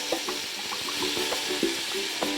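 Tomatoes frying in a pan with onions and green chillies for chicken biryani, a steady broadband sizzle with soft stirring scrapes and small clicks throughout, close and moderately loud with no talking.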